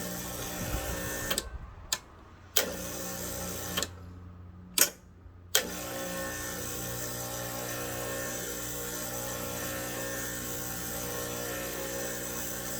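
A Cimbali M20 Junior espresso machine's vibration water pump, suspected of an airlock, runs with a steady buzzing hum that cuts out briefly several times early on, then drones on continuously; no one speaks.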